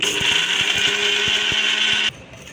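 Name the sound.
mixer grinder grinding gongura chutney ingredients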